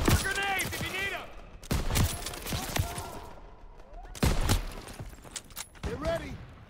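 Rifle and machine-gun fire rattles in repeated loud bursts during a Call of Duty WW2 battle, with sharp shots spaced across the scene while soldiers shout between volleys.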